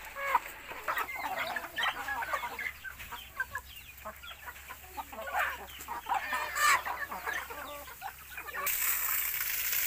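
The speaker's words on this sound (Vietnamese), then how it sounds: "Gà của nhà mình là gà lai, gà tre, thành ra mình mới bắt ba con mới đủ nha cả nhà." Mixed-breed and bantam chickens cluck repeatedly in short irregular bursts on a rural farm, close and moderately loud over a low background hum, with a brief rise in broadband noise near the end.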